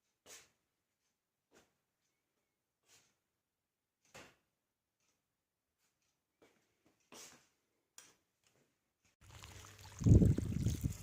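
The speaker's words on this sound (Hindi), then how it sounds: "ये मैंने लहसुन बोई हुई है इधर, काफ़ी टाइम हो गया है बो के, तो इसमें थोड़ा पानी दे रही हूँ आज" Water is poured from a can onto garlic plants growing in a home garden. A few soft, scattered knocks come first, then a short, close, splashing gush near the end.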